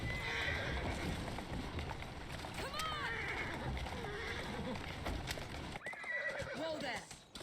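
A horse-drawn carriage in Assassin's Creed Syndicate rolls along with steady clip-clopping hooves over a busy street bed, while a horse whinnies loudly twice and a faint voice murmurs in the background.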